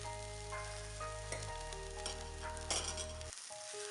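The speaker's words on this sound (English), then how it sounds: "just stir fry" Methi leaves stir fried in a pan for fried rice, a steady close sizzle with scraping stirs throughout and a low steady hum, the sizzle dropping away near the end.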